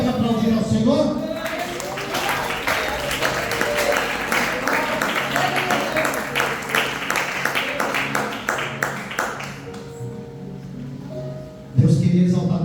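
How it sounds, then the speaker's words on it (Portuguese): A church congregation applauding the Lord during a worship service, sustained dense clapping from a crowd that fades out near the end, followed by a preacher's voice. "Você pode aplaudir ao Senhor?"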